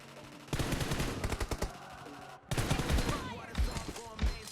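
Automatic-weapon gunfire in PUBG Mobile crackles in rapid, loud bursts with a brief break midway, mixed with game sound effects and faint voices.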